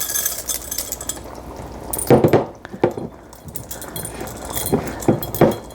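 A spoon scrapes stuck goulash off the bottom of a dish with short clinking, grating strokes and a few sharper knocks, close up against light kitchen background noise.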